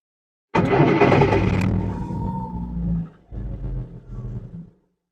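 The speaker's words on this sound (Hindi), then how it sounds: "तो अभी गाड़ी को स्टार्ट करके देखते हैं जरा कंडीशन" A Changan Karwan van's engine cranks and catches, a loud close start that settles into a steady low idle rumble, with a brief dip and recovery toward the end.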